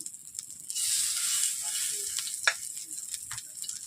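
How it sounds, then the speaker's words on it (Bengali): Kulekhara leaf fritters (bora) sizzle steadily in hot oil, a continuous bright hiss with brief crackles and a few soft scraping stirs, close and alone with no talk. "বসে বসে ভাজবেন।"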